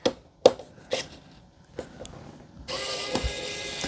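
Screw being removed from the drive wheel module of an iRobot Roomba J6+ robot vacuum: a few sharp clicks of a driver, then a sustained close ratcheting whir of loosening.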